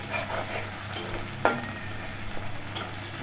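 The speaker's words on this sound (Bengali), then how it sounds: "নাড়িয়ে চাড়িয়ে হালকা ভেজে নিই" Katla fish kalia pieces with a little sugar are stirred and lightly fried in a pan, giving a steady soft sizzle broken by a few sharp scrapes of the spoon against the pan.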